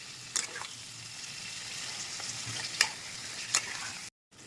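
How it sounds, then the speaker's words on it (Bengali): Chicken pieces frying in a pan with only salt, no turmeric, after a chili and cumin tempering, give a soft, steady sizzle with a few sharp crackles and stirring clicks, then a brief drop to silence near the end. "মাংসের মধ্যে কোনো হলুদ দেবো না আজকে শুধুমাত্র নুন দিয়ে ভাজতে দেবো"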